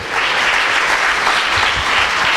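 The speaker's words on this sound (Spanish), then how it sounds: "Dale un aplauso al Señor." Congregation applauding at a church service, a steady dense wash of clapping from many hands that holds evenly for a couple of seconds, no voices over it.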